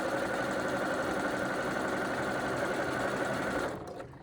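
Close and continuous, a sewing machine whirs at a steady fast rhythm as it stitches a pillow seam, then slows and stops near the end, with no speech.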